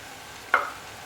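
Onions dropped into a hot pan for a minced-meat pasta dish, giving one short sizzling burst that quickly fades into quiet kitchen background.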